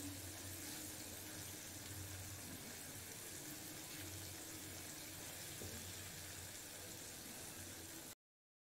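KFC-style fried chicken sizzles in oil over a medium flame: a steady, dense hiss with no voices that runs unbroken and then stops abruptly.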